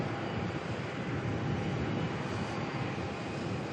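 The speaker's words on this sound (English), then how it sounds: "So we've got a United aircraft pushing back" A United aircraft pushing back at Melbourne airport: a steady, fairly faint broadband engine hum and rumble, unchanging throughout and with no talking.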